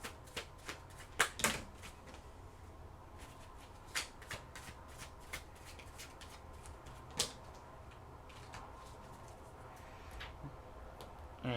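Tarot cards shuffled and drawn one by one, giving soft papery riffles and scattered light flicks and taps at close range, with a brief louder burst of shuffling near the start and quieter card snaps afterward, no voices.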